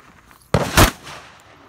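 A shotgun fires a slug at a target on an outdoor shooting stage, one loud, close blast with a short rolling echo, following a quiet pause.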